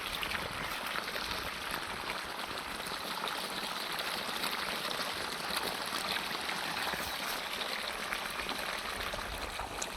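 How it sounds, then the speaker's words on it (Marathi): Borewell water flows steadily into a field, a broad gurgling wash with no pauses, fairly close and moderately loud. "आपलं हे बोरचं पाणी आहे पाणी पण बोरला वाढलेलं आहे"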